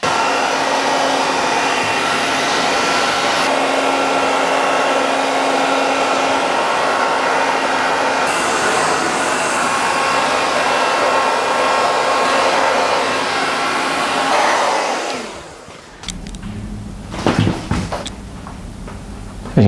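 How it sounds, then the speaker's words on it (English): A hair dryer fitted with a diffuser roars steadily and loud while drying a medium-length mullet haircut, then switches off near the end, leaving brief handling noises. "And now I'm gonna finish off with the diffuser all over."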